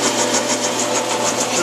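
A lathe turns a long ball screw for a machine's Y axis, giving off a steady continuous mechanical hum with faint rhythmic pulsing, close and constant throughout.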